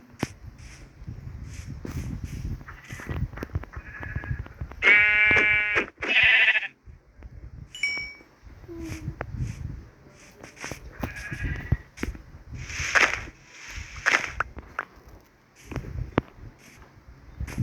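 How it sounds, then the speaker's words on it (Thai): Sheep bleat repeatedly in Minecraft, several clear calls rising over a steady background of footsteps and rustling game sounds, heard close without any talk. "แกะแถวนี้เยอะจริงๆ"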